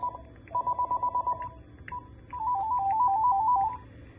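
A Panasonic KXTG9541 two-line cordless phone base rings with electronic warbling bursts, first a rapid pulsed trill, then a brief chirp, then a longer warbling ring, loud and alone.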